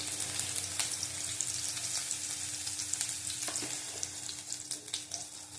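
Chopped garlic frying in hot oil in a pan for a kakrol dish, a steady close crackling sizzle with occasional stirring scrapes, no voices.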